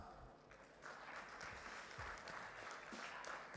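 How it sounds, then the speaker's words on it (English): Conference audience applauding the first panelist at a digital transformation and AI event, a steady, fairly faint wash of clapping throughout. "can we have a big round of applause for our first panelist"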